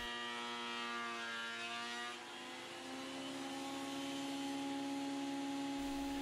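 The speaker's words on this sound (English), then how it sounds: "Now a few passes through the thicknesser again until I get the board exactly to the thickness that I need" Cheap thicknesser with worn blades planing wooden boards down to a quarter inch: a constant droning motor whine whose pitch shifts and dips briefly partway through as the board feeds. It sits fairly quiet and steady, with no voices.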